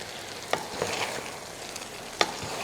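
Sabudana khichdi of tapioca pearls sautéed in a pan, with soft background sizzling and a few sharp scrapes and clacks of a spatula stirring through it, close and moderately quiet.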